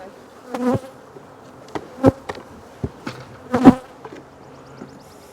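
Honey bees buzz while beekeepers split colonies, with a low hum under a series of sharp knocks and clicks from the hive equipment, some loud and close, others lighter.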